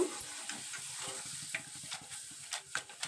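Sweet potato chips frying in hot oil while being stirred, a soft continuous sizzle with repeated scraping and clicking stir strokes, close and fairly quiet, no talking.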